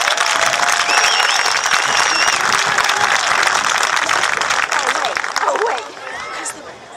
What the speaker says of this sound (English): let's give yourselves and the Tea Party movement a round of applause